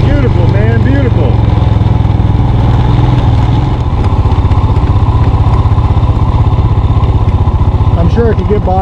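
A Kawasaki motorcycle engine runs steadily and loudly while riding, a rumbling mid-pitched drone with clattering, with a voice briefly heard over it.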